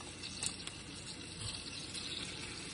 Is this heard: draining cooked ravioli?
yes